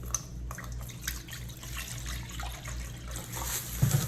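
Distilled water poured steadily into foaming black soap to dilute it, a soft continuous trickle and splash with faint drips, alone and fairly quiet.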